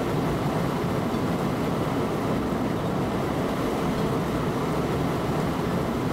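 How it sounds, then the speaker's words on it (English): Train running at about 160 km/h in Train Simulator 2017 on the Hamburg–Lübeck line, a steady, loud rumble of wheels and carriage noise that holds constant without a break or voices. "this train seems to be locked at 160 kilometers per hour"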